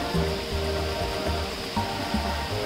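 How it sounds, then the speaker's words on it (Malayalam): Steady rushing water of a stream at a hidden spot near Vagamon, a broad continuous hiss with low rumbling underneath and no speech. "വെള്ളത്തിന്റെ ആ ശബ്ദം കേൾക്കാം."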